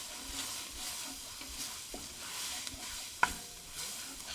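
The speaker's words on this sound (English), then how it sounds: "Give it a stir." A spoon stirs flour into softened vegetables in a soup pot, soft scraping strokes repeating with a faint sizzle underneath and one sharp clink of utensil against metal.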